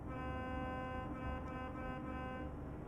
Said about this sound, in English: Actually, this is an air horn